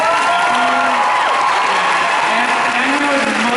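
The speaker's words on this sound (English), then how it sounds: "let's also have a clap hand for this one" A large convention crowd at a San Diego Comic-Con 2012 panel bursts into loud, dense applause and cheering, a continuous roar of clapping with faint voices calling out within it.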